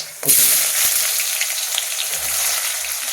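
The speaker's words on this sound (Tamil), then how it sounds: "இந்த வெங்காயத்தை அதில் கொட்டுறேங்க" Chopped onions dropped into hot ghee in a pan, a sudden loud sizzle that settles into steady close frying hiss with faint crackles, and a brief low voice near the end.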